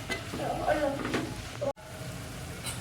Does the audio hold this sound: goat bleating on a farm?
no